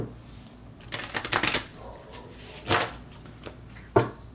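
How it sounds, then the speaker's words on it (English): Cards riffle-shuffled in a couple of quick bursts, with a few soft snaps and taps between them, close by. "I want to do one of these shuffles."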